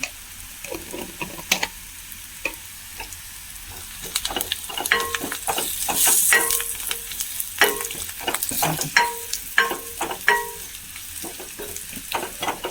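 Crushed chilli and browned onions fry in a pan, a continuous sizzle broken by frequent sharp spoon clicks and scrapes as the mix is stirred.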